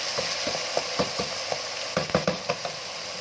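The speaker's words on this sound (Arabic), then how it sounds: "نقلب بقى كويس قوي كده" Tomato paste sizzles in a hot pan while a spoon stirs through it, a steady frying hiss punctuated by soft irregular scraping knocks, close and moderately loud.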